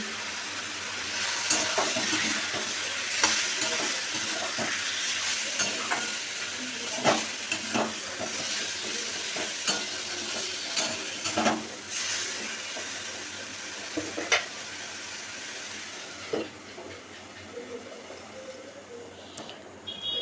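Bombay duck fish frying with potatoes in a pan, a continuous oily sizzle with scattered pops and scraping stir clicks, easing off near the end.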